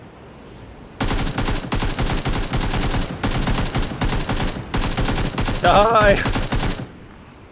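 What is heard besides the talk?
gunfire in video game PUBG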